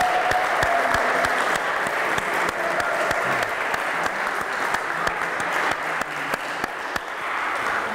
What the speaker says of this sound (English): I think a round of applause for all the players.